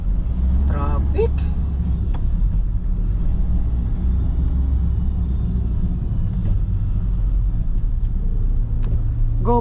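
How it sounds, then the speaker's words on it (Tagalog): Steady low road rumble of traffic at night in Jeddah, heard from inside a moving vehicle, with a voice speaking over the constant engine drone. "Traffic."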